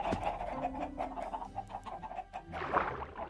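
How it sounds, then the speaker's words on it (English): A flock of chickens clucks continuously in a Minecraft world, several birds overlapping in a busy, close-up chorus of short rhythmic clucks with no talking over them. "Why do we hear a ton of chickens up here?"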